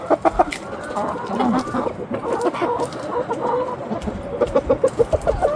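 Backyard chickens cluck and squawk close by over leftover Fruit Loops cereal, a busy run of repeated short calls with sharper bursts at the start and end.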